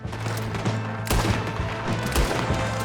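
Dense, continuous gunfire in the game Red Dead Redemption 2, with scattered heavier blasts over a rumbling background, no voices.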